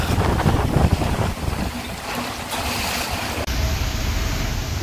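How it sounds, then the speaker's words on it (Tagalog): Strong sea waves break and splash against the waterfront in Rovinj, Croatia, in a steady, loud wash of water and surf mixed with gusting wind on the microphone, with no talk. "Ang lakas ng hampas ng alon."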